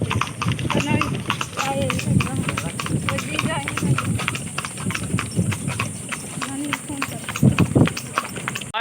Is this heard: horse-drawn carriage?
yes